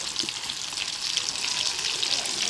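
Oil hisses and bubbles steadily as a snack fries in a pan, a soft continuous sizzle heard close up without voices.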